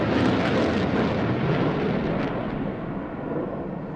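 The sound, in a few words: RAF Typhoon jet flying derry turns at air display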